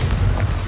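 Bombarda explosion spell cast in Hogwarts Legacy, a short loud deep boom with a heavy low-end rumble, sounding alone in under a second.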